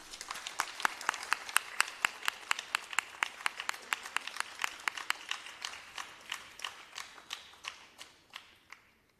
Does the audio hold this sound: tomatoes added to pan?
no